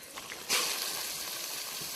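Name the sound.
garlic frying and simmering in pan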